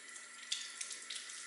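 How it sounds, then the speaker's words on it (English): Tap water runs steadily into a kitchen sink while shrimp are rinsed under it, a continuous close hiss with small splashy surges as the stream hits the shrimp and basin. "So we're going to wash off the shrimp here."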